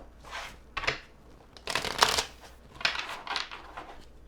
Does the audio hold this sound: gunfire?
no